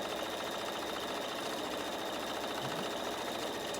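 A sewing machine stitches quilt patch blocks to an appliqué piece, making a faint, steady mechanical whir that runs continuously for the whole few seconds without any talking.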